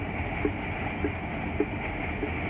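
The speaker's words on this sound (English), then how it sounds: "As we have the Q train departing Stillwell Avenue Station" A New York subway Q train departs Stillwell Avenue Station at Coney Island, a low steady rumble with evenly spaced soft wheel clicks on the rails, heard at moderate distance.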